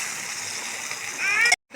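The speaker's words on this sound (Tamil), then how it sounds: "அதுக்கப்புறம் நம்ம அவிச்சு வச்சுருக்க கீரையை போட்டுக்கலாம்." Boiled spinach dropped into a pan of cooked tomatoes makes a short, close, wet sizzling splash that swells briefly, then cuts off abruptly.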